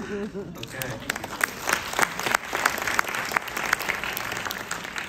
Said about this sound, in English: it's a round of applause for this.